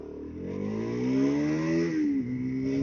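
Motorcycle engine running steadily while riding through Baku, a continuous droning tone that rises in pitch as the bike gains speed, then dips briefly and settles again, close and fairly loud with no talking.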